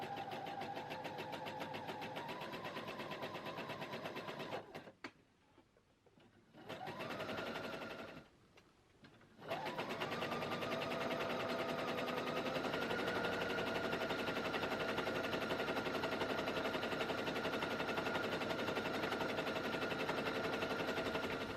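A domestic sewing machine runs a 2.5mm-wide zigzag stitch in cream yarn on a baggy knitted jumper, whirring loud and close in steady bursts, stopping twice briefly before carrying on continuously.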